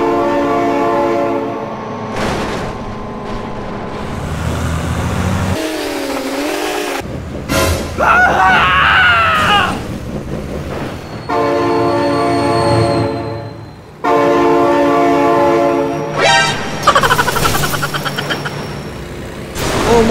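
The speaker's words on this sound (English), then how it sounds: "Oh my god, train!" Train in the BeamNG Drive video game sounding long, loud horn blasts as it passes close, broken by gaps and crashing, rumbling car noise.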